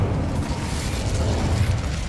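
Spell blasts and bursts of fire in the video game Hogwarts Legacy, a dense, loud rumbling roar that fills the whole moment without pause.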